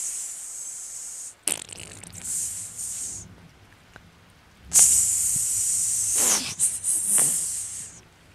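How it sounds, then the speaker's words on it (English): A raw burger patty sizzles on a hot grill, giving loud bursts of bright, steamy hissing that swell and fade, separated by quieter stretches. "the sound of a grilled patty is like the sound of rain at night"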